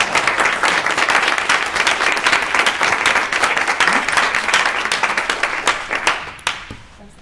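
An audience claps for a lecturer arriving to speak on Early Iron Age northern Syria, dense and loud at first, then thinning out and dying away near the end.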